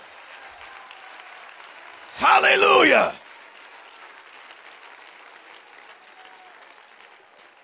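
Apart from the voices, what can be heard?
congregation clapping loudly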